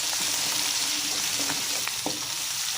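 Garlic and ginger paste frying in a pan, a dense steady sizzle close by with a few soft stirring taps, heard without talk.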